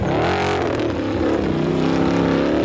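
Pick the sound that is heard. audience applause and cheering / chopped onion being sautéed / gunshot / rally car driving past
rally car driving past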